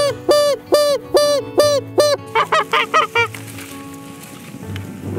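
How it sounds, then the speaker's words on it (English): A string of loud honks from a flock of geese in flight over an Alberta field, first five long calls then a quicker burst of shorter honks, fading into a low rumble of wind. "Nice flock. Okay, these are geese."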